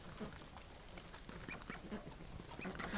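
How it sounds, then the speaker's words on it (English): Wintering ducks quack in a dense, overlapping jumble, several birds close by calling continuously over a steady background noise. "when you're walking around just quacking like that"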